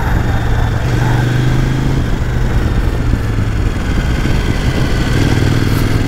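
A KOVE 800X Pro motorcycle engine rumbles continuously and loudly up close, a steady throbbing drone with no pauses.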